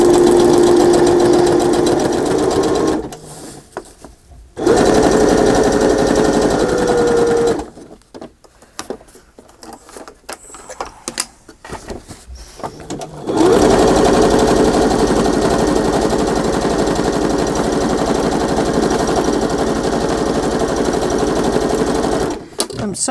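A sewing machine stitching a zigzag around a paper journal page: loud, rapid mechanical whirring in several bursts broken by pauses with handling noise, close up.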